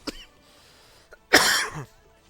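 A single harsh cough bursts out close by, preceded by a faint throaty click and followed by quiet.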